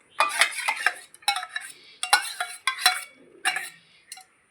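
A spoon scrapes and clinks against a metal pot in short bursts of several strokes each while homemade sour yogurt starter is scooped in, close up with gaps of quiet between.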